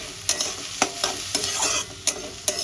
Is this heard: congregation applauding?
no